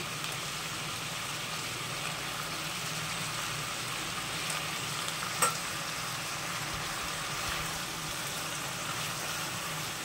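Grated old coconut frying in a pan for a Bengali wax gourd dish gives a steady, even sizzle throughout, broken by a single brief clink near the middle.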